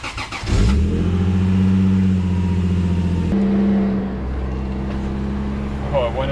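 A Lexus IS300 engine cranks and catches with a quick sputter, then settles into a loud, steady idle close by that drops slightly in pitch after a few seconds as a voice speaks briefly.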